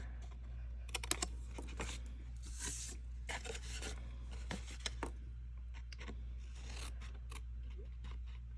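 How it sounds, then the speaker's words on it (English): Scissors snip and rasp along the edge of a paper treat box being trimmed, a series of short close cuts and rustles against a low steady hum. "I'm just going to trim off the side just a touch on these"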